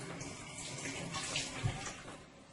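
Coconut pieces being rinsed under a running kitchen tap, a steady broadband rush and splash of water that stays constant throughout with no talk.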